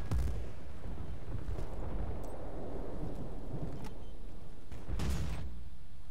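Grenade explosions in the shooter game Battlefield: Bad Company 2, heavy booming blasts with rumbling tails, a big one at the start and another near the end, over constant battle noise and scattered gunfire.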